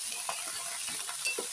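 Potatoes fry in a pan with a soft, continuous sizzle and hiss, while faint stirring scrapes come and go.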